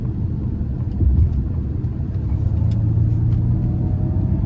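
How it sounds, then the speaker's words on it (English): A Ford Mustang Mach-E electric SUV pulls onto the interstate under throttle, giving a steady low road and tyre rumble with a faint rising whine, heard from inside the cabin with no talk. "So we're getting on the interstate here, and we'll give it a bit of throttle."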